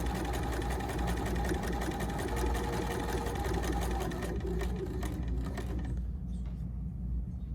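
A sewing machine stitches fabric for a quilted jar gripper, running in a steady, close, fast whir for about five and a half seconds before stopping.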